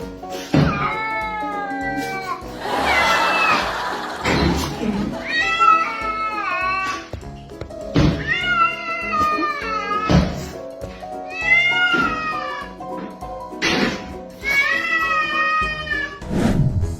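A cat meows loudly and repeatedly, with about eight long, drawn-out, wavering cries spread at uneven intervals, close by and mostly alone apart from brief thumps and faint voices.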